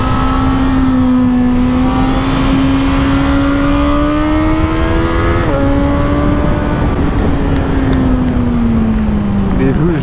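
A Suzuki GSX-S 1000 motorcycle engine drones loudly and steadily while being ridden, its pitch rising gradually, dipping briefly, then easing down, with wind rush throughout.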